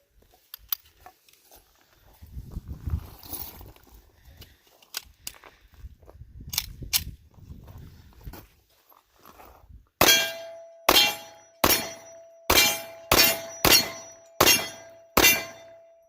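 A Ruger SR1911 Lightweight Commander .45 ACP pistol fires 230 grain hollow points, with sharp loud shots in a quick string of about eight, ringing metallic clangs after each, following quieter handling noises and scattered clicks.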